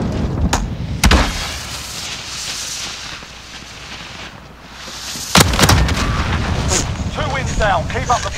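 An explosion from a shot claymore or C4 in Modern Warfare gunfight gameplay: a loud broadband boom near the start, then another heavy blast about five seconds later amid game noise, with a voice talking.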